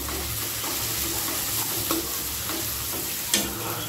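Chopped onion and tomato with cashew pieces roast in a pan over high to medium flame, giving a steady close sizzle with light scraping stirs and occasional utensil clicks, no voices.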